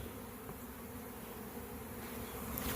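Honey bees buzz in a soft, continuous drone, many insects humming together, faint and steady with no voices.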